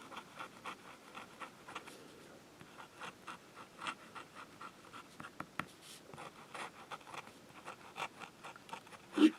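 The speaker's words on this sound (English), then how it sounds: "Let's try reverse writing." A Sheaffer Prelude fountain pen scratches faintly across paper as it is used upside down for reverse writing, with a steady run of soft nib strokes in a quiet room.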